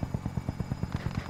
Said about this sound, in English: Helo is in position for your deployment